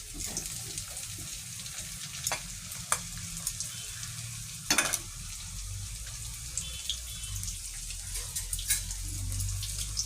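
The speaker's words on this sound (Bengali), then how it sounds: "এবার ফ্রাই করব।" Paneer cubes frying in a pan for chilli paneer, a constant soft sizzle broken by sharp scraping clicks of a spatula stirring, with no talking.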